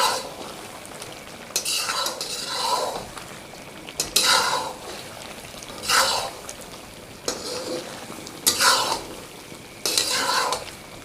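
Chicken karahi with black pepper and red and green chilies fries in a pan, a constant sizzle broken by repeated bursts of stirring and metal scraping about every couple of seconds, close and fairly loud.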